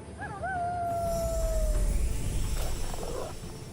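A lycanthrope in the fantasy strategy game Age of Wonders 4 lets out a long, rising-then-falling wolf howl as an attack, loud and close over a low rumbling game backdrop.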